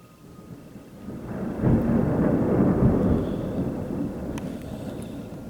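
Thunder from a thunderstorm near Tipton, Indiana: a deep, loud rolling rumble swells after the first second, stays heavy for several seconds, then slowly fades, with no voices.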